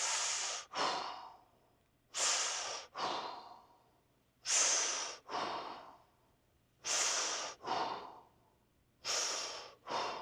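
Deep, slow breaths taken during a squatting fascia-release exercise for the hips, knees and legs: five long whooshing cycles of inhale and exhale, close and fairly loud, with no talking.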